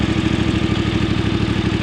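A Voge 900 motorcycle engine revs slowly while the bike creeps along with the clutch out on a scenic mountain road, giving a loud, steady, close-up pulsing throb with no talk over it.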